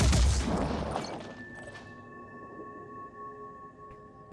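Gunfire in the Phoenix Point strategy game: one heavy booming shot at the start that decays into a ringing, tonal tail and quiet hum.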